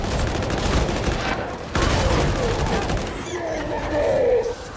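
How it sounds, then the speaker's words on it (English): Dense, sustained automatic gunfire in the Darktide video game lays down suppressing fire from a Skitarii character, with rapid overlapping bursts, a short pause, then more fire and fainter combat noise and a distant groan. "There's quite a few gunners, so I'm going to transition to suppressing fire again."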